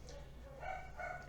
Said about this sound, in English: That's my dog, don't worry.